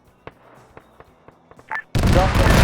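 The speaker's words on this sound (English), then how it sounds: "We're laying fire down now" Gunfire in a military wargame: a series of sharp, spaced single shots, then a sudden loud, continuous burst of heavy firing that fills the rest of the moment.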